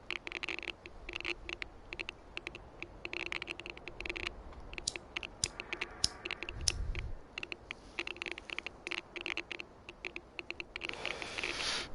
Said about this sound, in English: You can hear the Geiger counter going off and making the cracking